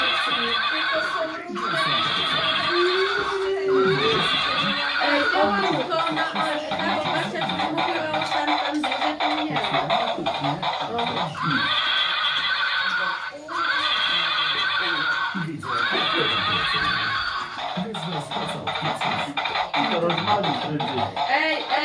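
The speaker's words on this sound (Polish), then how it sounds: "Edyta, ten koń e, jest większy jak koń nasz?" Horses neigh and whinny repeatedly in loud, rising-and-falling bursts, with people talking throughout.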